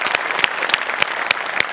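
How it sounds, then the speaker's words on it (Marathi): Studio audience at a Marathi comedy show applauding loudly, a dense steady patter of clapping with a few sharper, louder claps standing out near the microphone. "मस्त, जोरदार टाळ्या."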